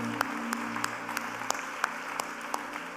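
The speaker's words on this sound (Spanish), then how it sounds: "le damos un fuerte aplauso al Señor" A church congregation applauds together during a worship service, giving a dense, steady wash of many hands clapping. A few sharper claps stand out over the crowd, which holds at an even level throughout.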